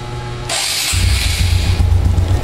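Honda RS125 motorcycle engine cranking and catching, then settling into a loud, close, steady idle with a rapid pulsing beat, no talk.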